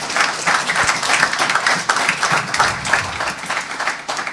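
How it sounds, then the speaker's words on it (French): A church congregation claps and acclaims the Lord, with a dense, steady round of applause and cheering voices throughout, fairly loud and close. "Est-ce qu'on peut acclamer le Seigneur?"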